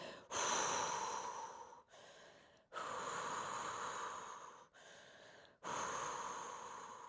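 Deep breathing during a core-strength yoga exercise, three long audible breaths alternating with shorter ones, close and even in rhythm, with no talking.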